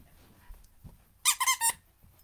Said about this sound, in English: Is it squeaking it?